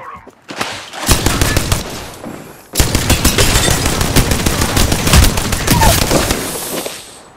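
Loud, rapid bursts of automatic gunfire in the Apex Legends battle royale game, with a short lull around the second mark before a long, dense stretch of continuous shooting.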